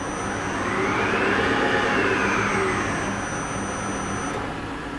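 A Clausing Metosa gap bed engine lathe runs at 600 RPM, giving a steady, even mechanical whir with a faint high whine throughout and no one speaking.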